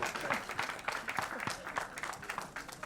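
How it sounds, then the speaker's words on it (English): An audience applauds at the Freaky Ali trailer launch event, quiet but distinct rhythmic clapping with some individual hand claps standing out, and faint voices mixed in. "Huge round of applause for the cast, for the crew, for the team of Preeti Ali."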